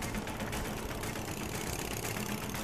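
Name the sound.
Kawasaki motorcycle engine idling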